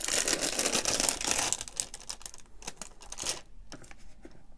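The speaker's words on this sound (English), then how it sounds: "but this is just a nice little peel top" The peel-off top of a DampRid activated charcoal moisture absorber is pulled open in a string of close, crackly tearing and crinkling sounds that thin out into scattered clicks.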